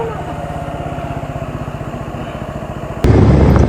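A Yamaha 200 cc motorcycle engine idles with a steady, rapid mid-pitched putter close by, then revs up sharply near the end into a louder, rougher roar.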